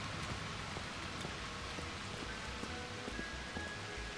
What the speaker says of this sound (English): Oh, looks like it's raining again.